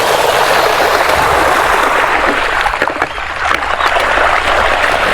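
Steady rushing, splashing water as a mountain bike rides through flood water on a trail, loud and close, continuous wash with a brief dip midway.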